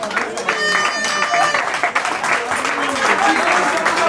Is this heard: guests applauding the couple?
yes